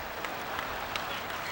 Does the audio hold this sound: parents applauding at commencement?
yes